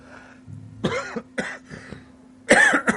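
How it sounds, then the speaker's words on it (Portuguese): A man coughs several times in short, sharp bursts, close and clear against a quiet room with a faint steady hum. "Desculpe a tosse"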